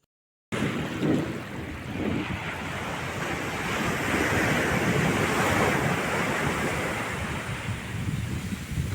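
Sea waves wash continuously onto the beach at Chavakkad Puthan Kadappuram, where men cast nets for fish, as a steady roaring surf with buffeting wind noise on the microphone and no voices.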